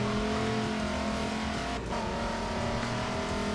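Race car engine droning steadily on the Hockenheimring in Forza Motorsport 7 as the car slides out of the hairpin, a continuous loud tone with faint tire scrub and no talk.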